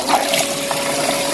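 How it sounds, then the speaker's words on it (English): Water rushes steadily through an Intex above-ground pool sand filter system during a backwash, a continuous close, loud flow with no pauses. "So we're going to run this backwash now."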